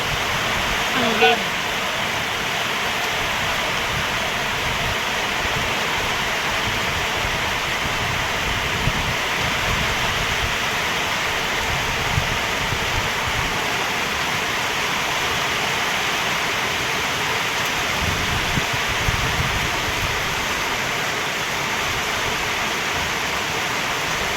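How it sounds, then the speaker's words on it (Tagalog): A heavy, constant roar of downpour fills the background, steady and broadband, with occasional faint voices beneath it. "Bakit lakas ng ulan?"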